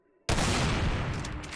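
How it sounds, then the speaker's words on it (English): Enraged LMG firing in GZDoom God Complex, a continuous loud burst of rapid gunfire that starts abruptly and holds steady to the end. "Enraged LMG. It's got some cool effects when you shoot."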